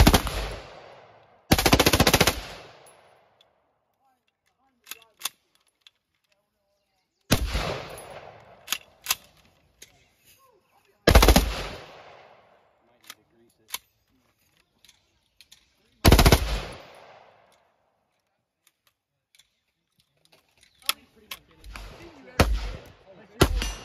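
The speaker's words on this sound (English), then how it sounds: "40-inch machine gun." Loud machine gun bursts at an outdoor spring machine gun shoot, several long sustained strings of rapid fire separated by quiet gaps, with scattered single shots and faint voices between bursts.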